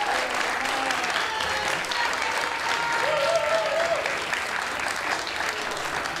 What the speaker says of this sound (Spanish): Quiero pedirles un aplauso grande, de amor, de cariño, de oración también a nuestro fundador